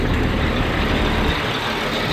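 A John Deere 8640 tractor with a 50 series engine, freshly fitted with a new transmission and clutch, runs close by with a loud, steady, rumbling drone throughout.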